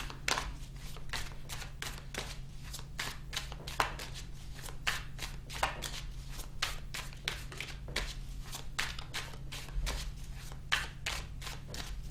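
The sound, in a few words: shuffling cards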